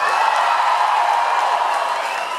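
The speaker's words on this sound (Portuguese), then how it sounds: "Uma salva de palmas para Kamal." Applause and scattered cheers fill the room for Kamal at the LAB Fantasma 7th anniversary party in Audio Club, a thick, unbroken crowd roar that holds steady and eases slightly toward the close.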